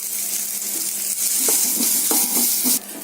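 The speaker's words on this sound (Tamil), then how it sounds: "துருவி எடுத்து வச்சிருக்க தேங்காயை போட்டு நம்ம வதக்கி எடுத்துட்டு போறோம்" Grated coconut sizzles steadily in a hot pan while a spoon scrapes and stirs it in a few soft strokes.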